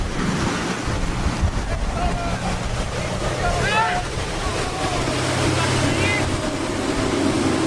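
Motorboats pass on open water during an Independence Day outing, engine drone mixing with surf and heavy wind buffeting on the microphone, loud and continuous.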